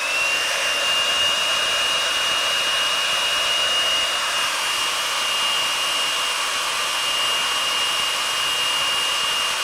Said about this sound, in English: So take your hair dryer and dry that up good.